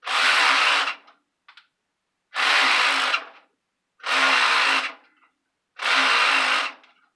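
A power drill revving hard to free a stuck chuck, spinning up in four loud, even bursts of about a second each with short silent pauses between them.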